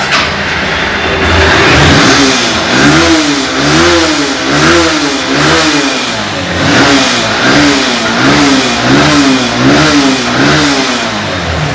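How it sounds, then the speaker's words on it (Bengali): A mint-condition Honda X-Blade 150cc motorcycle engine revs loudly and close by. The throttle rises and falls in repeated, rhythmic surges over a steady running drone. "আপনাকে ইঞ্জিন সাউন্ড না শোনালে আপনারা বিশ্বাস করবেন না।"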